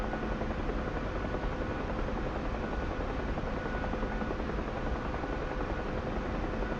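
A UH-1H Huey helicopter flying in the DCS flight simulator, a continuous dense rotor and turbine drone at steady loudness.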